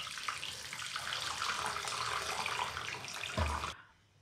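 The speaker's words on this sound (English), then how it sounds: "So just strain it through a colander." Pork stock pours through a colander as a steady rushing, splashing stream of liquid that runs for about three and a half seconds, ends with a low thud and then falls quiet.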